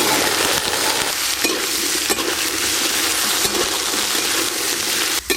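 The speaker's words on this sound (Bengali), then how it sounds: "আলু আর কচু একটু ভালো করে ভাজা ভাজা হয়ে গেল।" Potatoes and taro pieces fry in mustard oil in a pan, giving a loud, continuous close sizzle with scraping stirs throughout and no talking.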